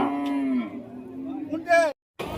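A black cow moos at a busy cattle market, a long drawn-out low call followed by a second rising bellow, close and clear, with a brief silence before more background noise.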